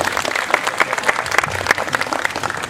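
Audience applause welcoming a speaker at a cultural gathering (sarasehan budaya) at a university, a steady wash of many hands clapping with dense, even texture throughout.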